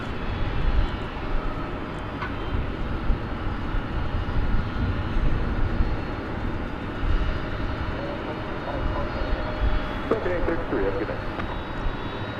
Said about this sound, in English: the sound of a roaring jet